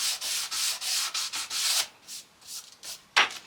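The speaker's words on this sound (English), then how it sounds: "just a dowel wrapped in a piece of sandpaper" Hand sanding with a dowel wrapped in sandpaper on an end table piece, a run of quick rhythmic rasping strokes close up, steady at first and then sparser with a sharper final scrape.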